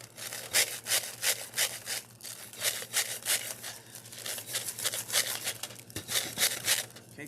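Foil on a thermal wine tumbler is scrubbed in quick, rasping back-and-forth strokes, close and fairly steady with short pauses, no talking.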